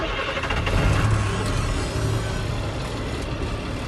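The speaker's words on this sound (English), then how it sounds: "And now I'm ready to start my engine." A truck's engine cranks and catches in the cab, a loud rumbling turnover that settles into a steady idle, alone without talk.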